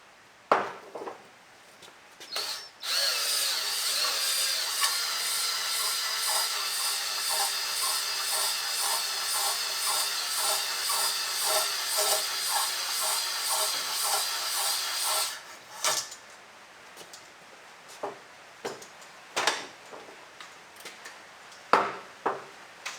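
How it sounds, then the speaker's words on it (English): A cylinder honing tool runs in the bore of a 1996 Honda CB750 F2 engine during a top end rebuild, a continuous close whirring buzz for about twelve seconds, followed by scattered knocks and handling clatter. "Got our honing tool here. We'll make that in number 1."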